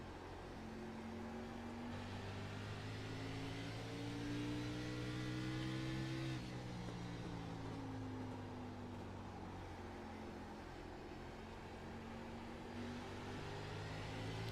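NASCAR-style race car engines in the iRacing video game at Richmond Raceway, a steady droning whine with slowly rising and falling pitch as throttle is eased, alone and moderately quiet throughout.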